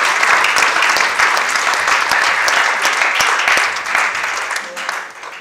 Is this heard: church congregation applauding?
yes